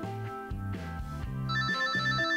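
A mobile phone rings while wrapped under a hundred layers of tape, a continuous melodic ringtone with steady repeating tones that stays fairly clear and even throughout, growing slightly fuller toward the end.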